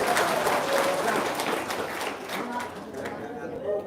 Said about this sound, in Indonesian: Sip, tepuk tangan dong.